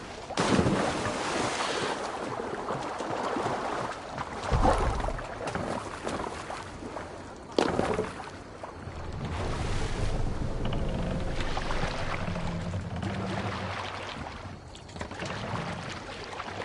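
Sailing ship out at sea in Assassin's Creed Valhalla: steady wind roar and rushing water against the hull, with a few louder gusts and creaks breaking through a continuous loud wash.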